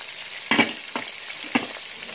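Marinated chicken frying in hot oil, a steady faint sizzle broken by three short louder crackles or stirring sounds.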